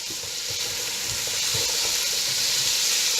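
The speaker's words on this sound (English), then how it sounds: "we sauteed our onions a little bit, like so" Onions sautéing in a pot as the base for a vegetable soup with potatoes and kale, giving a steady close hiss and sizzle with faint stirring knocks underneath.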